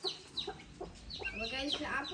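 Chickens cluck and squawk inside a backyard coop, with repeated bursts and some overlapping calls. The calls sound close and moderately loud.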